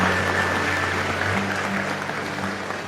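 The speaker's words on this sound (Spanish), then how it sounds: "Aplauso para el hermano Eduardo" A church congregation applauds a brother, with a dense, even spread of clapping over a low steady hum, softening slightly toward the end.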